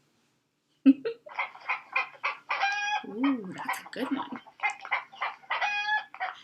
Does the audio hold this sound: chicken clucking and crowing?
yes